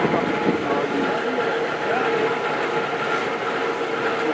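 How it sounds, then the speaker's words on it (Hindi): A Tezgam passenger train leaving Rawalpindi for Gujar Khan, heard as a steady, loud rumble of rolling carriages throughout with no distinct whistle. "final departure whistle train has departed so leaving Rawalpindi for गुजर खान"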